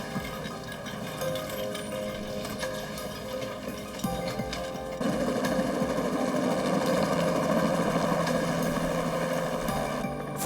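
A helicopter airlifting a sick child to a children's hospital in London, Ontario, gives a steady, droning engine and rotor hum that grows louder about halfway through. No one speaks.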